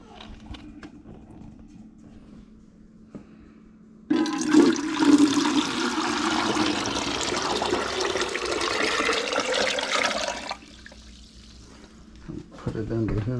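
Water rushing and draining out of a Primo water dispenser being cleaned, a loud steady gush that starts abruptly and runs for about six seconds before cutting off, with quieter handling noises around it.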